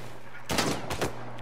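Gunfire in Uncharted 4, two short bursts of loud, close shots fired in quick succession over a steady background hum.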